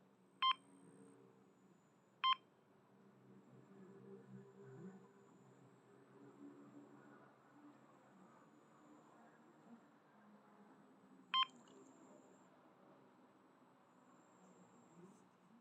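A carp fishing bite alarm lets out a few short, sharp electronic beeps, two close together near the start and one more later, ringing clearly over a quiet, faint outdoor background.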